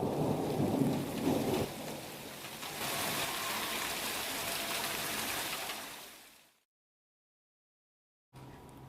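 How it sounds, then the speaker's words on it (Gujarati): Torrential monsoon rain pours in a dense, loud roar with rolling thunder early on, then the downpour fades to silence before briefly returning at the end. "રાજ્યમાં મેઘરાજા મુશળધાર વરસી રહ્યા છે"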